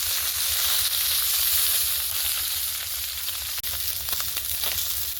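Fish fry in a kadai, making a continuous close sizzle and hiss, with one brief sharp break partway through as the whole batch is flipped over in the pan.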